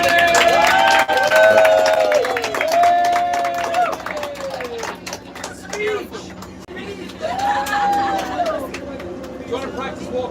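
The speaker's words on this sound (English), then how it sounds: "So a round of applause for Abigail." A crowd at a bridal event claps and cheers amid lively chatter, with voices talking loudly over the noise throughout.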